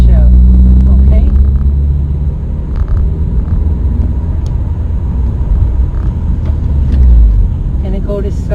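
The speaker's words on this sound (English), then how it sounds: "rev it up, clutch out." A car engine revs up under load for a rev-match downshift, the clutch coming out as the low, steady rumble surges and settles, heard from close inside the cabin.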